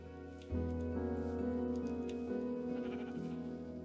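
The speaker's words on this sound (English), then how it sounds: "Look at all those sheep. Let's go get some sheep." A sheep in the video game Minecraft lets out a loud, close, wavering bleat that starts abruptly and holds for about three seconds, heard alone without speech.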